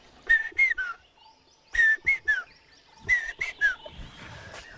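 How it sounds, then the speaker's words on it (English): A common hawk cuckoo, the brain fever bird, calls in Bandhavgarh National Park, India, with three bursts of rising whistled notes in repeated phrases, clear and fairly near against quiet forest. "Okay, you can hear the brain fever bird."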